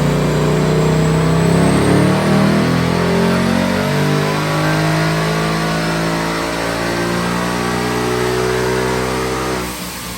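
A 2022 Ford Mustang GT with an ESS G3X supercharger and 120mm pulley, running on E85, makes a dyno pull, a loud close engine climbing steadily in pitch with a whining supercharger note before cutting off near the end.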